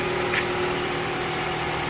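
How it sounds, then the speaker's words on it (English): A 2006 Toyota Camry engine idles steadily at close range, a constant, even hum with no revving or voices. "I've got the engine running."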